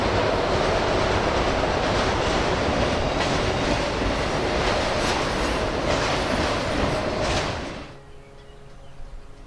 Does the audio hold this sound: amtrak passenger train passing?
yes